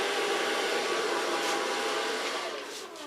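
A hair dryer blows steadily at close range while styling a platinum blonde bob, a loud continuous whoosh that dips slightly near the end, with no talking.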